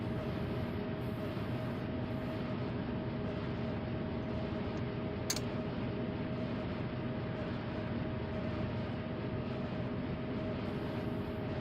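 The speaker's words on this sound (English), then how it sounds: "we're on a steep grade and this train is pulling" Heavy diesel freight locomotive in the Run 8 train simulator game, labouring hard up a steep grade, a steady loud engine drone and rumble throughout with one brief high click partway through.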